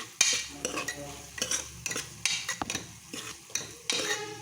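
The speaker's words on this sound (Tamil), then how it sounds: "நீங்கள் கொஞ்சோண்டு உப்பு போட்டிங்கன்னா வெங்காயம் நல்லா வதங்கிடும்" Onions sautéing with a little salt in a pan for a potato side dish, with repeated close scraping and stirring strokes of a spoon against the pan over a soft sizzle.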